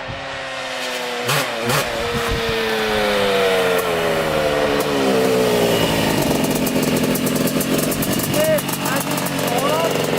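A Honda CR250 two-stroke dirt bike set up for ice racing revs hard as the rider tries for a wheelie, its engine note climbing and wavering in rising sweeps, loud and fairly close, with voices talking over it.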